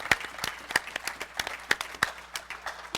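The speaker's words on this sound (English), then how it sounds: "Let's do a little longevity clap right there." A small group claps together for long service on a youth ministry podcast, a sparse, uneven patter of distinct nearby hand claps rather than a full crowd roar.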